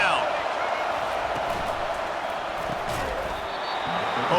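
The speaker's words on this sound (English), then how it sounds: "Decibels rising as the crowd gets behind this defense on 3rd down" Stadium crowd noise swells in a College Football 25 game on a third down, a steady broad roar of fans that holds loud across the clip while a commentator talks over it.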